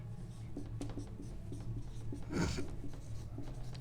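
Chalk or marker scratches steadily on a classroom board in short strokes, a continuous dry scraping at close range over a constant low hum.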